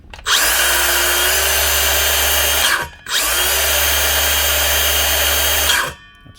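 Cordless Makita DHS680 circular saw spinning up loudly twice, each run a steady high whine lasting a few seconds before winding down, with a short pause between the two bursts.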